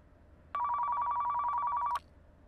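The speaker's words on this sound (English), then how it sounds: "we've got a phone ringing" A telephone in the Car Mechanic Simulator 2015 game gives one bright electronic ring burst lasting about a second and a half, clear and alone above a quiet background hum.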